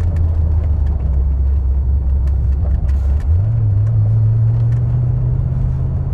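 A Ford Mustang with Flowmaster exhausts cruises on a road, its low engine rumble steady inside the car, then rising smoothly in pitch as it accelerates, loud and continuous with no talk.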